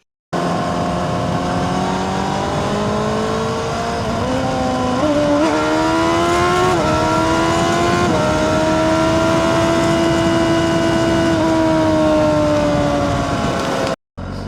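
Loud, sustained engine whine of a 2024 Honda CBR600RR sport motorcycle racing a Porsche 911, pitch climbing through gear shifts then holding a high steady drone; no voices.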